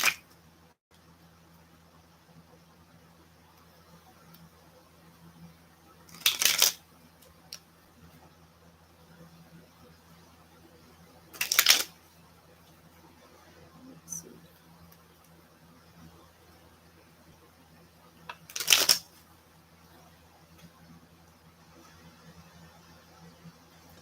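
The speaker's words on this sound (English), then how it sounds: "One more shuffle." A tarot deck is shuffled in three separate short, crisp riffling bursts spaced several seconds apart in an otherwise quiet room with a faint low hum.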